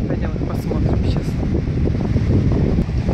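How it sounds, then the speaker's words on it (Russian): Strong wind on an empty beach at Lake Peipus buffets the microphone in a continuous low roar, loud and unbroken throughout, with a faint higher rustle over it. "Ветер сегодня страшенный, конечно."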